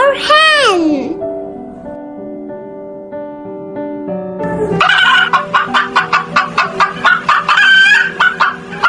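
A hen clucks in quick repeated bursts, loud and close, after a short melodic musical passage and a high rising-falling call at the start.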